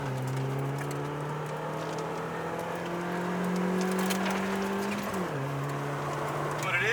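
A small car pulls away and gathers speed, its engine note climbing steadily and then dropping briefly at a gear change before rising again, fairly close and continuous.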